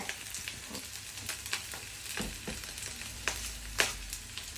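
Fried rice with corn and egg is stirred in a pan, with a soft background sizzle and scattered scraping strokes of the utensil against the pan. The sound stays faint and close throughout.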